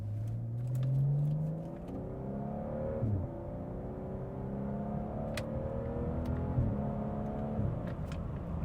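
A BMW 6 Series engine accelerating in Sport Plus, revving up with rising pitch, briefly dipping at gear changes, then pulling on steadily from inside the car, with a continuous moderate drone.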